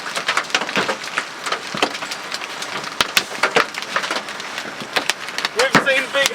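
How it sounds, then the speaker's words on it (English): Giant hailstones pound the ground and a field during a Halloween supercell storm in southeast Queensland, a dense barrage of sharp, loud cracking impacts with an excited voice exclaiming over the clatter. "We've seen big hail, but we've never had them hit like this."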